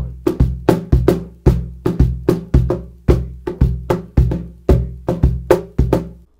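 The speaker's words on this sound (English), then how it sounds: "Okay, so if I play the What Atrocious Weather polyrhythm, which is a 3/4 polyrhythm." Piano playing a 3 against 4 polyrhythm, high notes in fours over bass notes in threes, crisp repeated struck notes in a steady interlocking pattern, clear and close with no talk.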